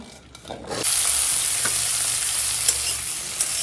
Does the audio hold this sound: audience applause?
no